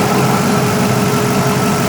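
A Jeep ZJ with a 5.2 engine, air gap intake, big gulp throttle body, cam and dual exhaust idles steadily with a loud, even rumble close by.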